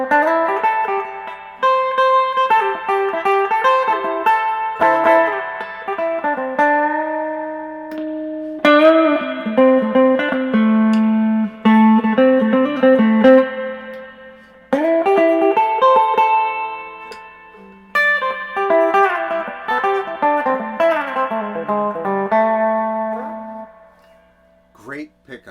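Harmony H15 Bobkat electric guitar with the tone control at midpoint, strummed in loud distorted chord phrases that ring out between short pauses, with no talking.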